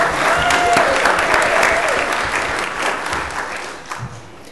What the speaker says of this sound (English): A round of applause for this young guy and his trumpet.